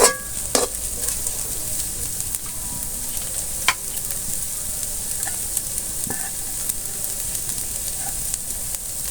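Softened vegetables and egg being stirred in a hot frying pan, a steady sizzle with occasional utensil scrapes and clinks against the pan, close up and without talk.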